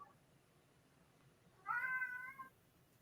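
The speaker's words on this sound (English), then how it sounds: "I heard the meow" A cat meows once, clear and fairly close, rising from a quiet background of low hum.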